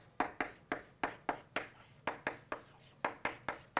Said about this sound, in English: So I will simply write